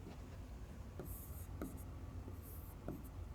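Chalk or marker writing on a classroom board during a Class 9 lesson, heard as scattered soft scratchy strokes and taps at steady distance over a hushed room, with no talking.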